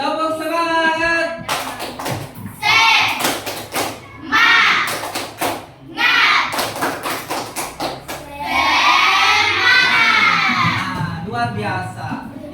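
Schoolchildren in a classroom perform a rhythmic spirit clap, sharp bursts of group clapping alternating with the kids' chanted voices, close and lively.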